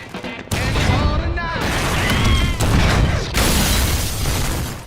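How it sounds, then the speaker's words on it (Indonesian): Dense, loud gunfire fills a film shootout, with rapid overlapping shots and booming blasts layered over clattering debris in a continuous chaotic barrage. "Di tengah baku tembak, Barney dan timnya terpojok"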